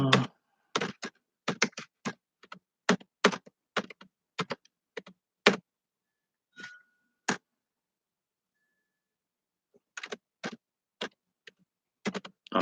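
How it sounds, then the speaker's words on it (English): Bursts of rapid keyboard typing, clicks clustered in quick runs with a long quiet pause midway before the tapping resumes. "I'm typing them out for you"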